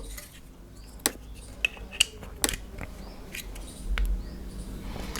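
An Insta360 One R camera mount screw is adjusted by hand, giving a few small, sharp clicks and ticks at irregular intervals, close and quiet, with a soft rubbing handling sound near the end.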